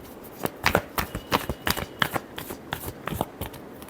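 Tarot cards being shuffled close by, a quick series of dry, papery flicks and taps at an even pace, quiet and alone.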